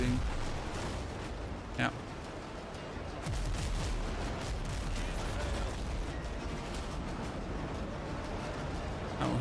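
Frigate cannons in the Windrose naval game fire at a distant ship in a dense, continuous roar of booming shots, with a loud blast standing out early, while players talk over it.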